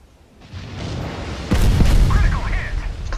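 Naval gunfire in the World of Warships game: a heavy rumbling boom swells in after a quiet start, followed by sustained low roar and crackle, loud and close, with a voice talking over it.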